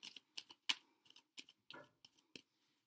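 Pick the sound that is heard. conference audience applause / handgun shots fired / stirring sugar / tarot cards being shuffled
tarot cards being shuffled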